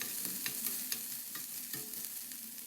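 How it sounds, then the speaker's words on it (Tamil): Garlic and ginger sauté in hot oil with a soft, steady sizzle, and a spoon stirs the pan in light scraping taps. The whole clip is close and low in level, with no voices. "நல்லா வதக்கி விட்டுக்கோங்க."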